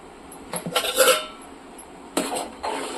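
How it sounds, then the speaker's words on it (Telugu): Moong dal rasam being stirred in a metal pot, with a few scattered clinks and scrapes of a spoon against the pot over a quiet background. "కలుపుకుంటున్నానండి బాగా మరగాలి"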